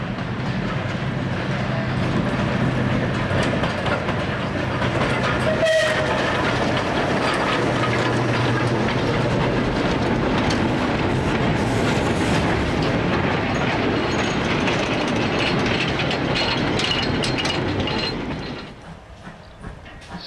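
Drewry-designed 0-6-0 diesel mechanical shunter No. 11216 clatters over a level crossing with a return goods train to Buckfastleigh on the South Devon Railway. A steady rumble of wagons carries on throughout, with a sharp clunk near the start, and it drops away abruptly at the end.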